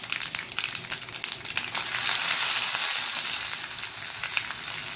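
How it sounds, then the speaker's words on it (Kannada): Mustard seeds and urad dal crackle and sizzle in hot oil as a tempering for a Mangalorean red chutney. The sizzle turns loud and steady after a short burst of spluttering, with no talk. "ಒಗ್ಗರಣೆ ರೆಡಿ ಆಗ್ತಾ ಉಂಟು ನೋಡಿ."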